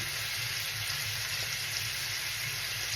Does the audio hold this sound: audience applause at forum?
no